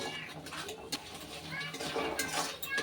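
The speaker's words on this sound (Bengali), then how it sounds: "এবার এই সব মশলার সাথে একসাথে ভালো করে দিয়ে বেশ কিছুটা সময় মশলাগুলো খুব ভালো করে কষিয়ে নেব।" Spices, including coriander powder and turmeric, are stirred and fried in a pan for an egg and lentil curry, with light scraping and clinking of a utensil against the pan under someone talking.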